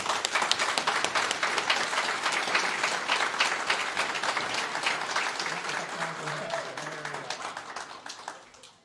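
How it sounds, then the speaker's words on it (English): A graduation ceremony crowd at Bay Mills Community College claps for a student of the year, sustained dense applause that slowly thins and fades near the end, with faint voices underneath. "Let's give him a round of applause."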